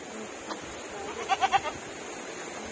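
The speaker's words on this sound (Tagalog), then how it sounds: "Ito kambing yan, oh." A goat bleats outdoors in a quick run of three or four wavering cries, heard at moderate distance over faint background ambience.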